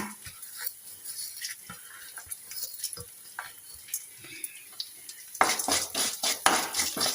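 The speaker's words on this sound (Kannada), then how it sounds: "ಸ್ವಲ್ಪ ಫ್ರೈ ಆದಮೇಲೆ ಇದಕ್ಕೆ ನಾನು ಧನಿಯಾ ಹಾಕ್ತಾ ಇದ್ದೇನೆ, ಮತ್ತು ಜೀರಿಗೆ, ಮೆಂತ್ಯ ಎಲ್ಲ ಕೂಡ ಹಾಕ್ತಾ ಇದ್ದೇನೆ." Coriander, cumin and fenugreek seeds fry in a pan for an Udupi-style mango dish, with soft sizzling under scattered clinks of a spoon, then a burst of louder scraping and clattering against the pan.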